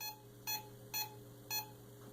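Three short, evenly spaced electronic beeps from an EMF meter, about half a second apart, faint against a steady low hum.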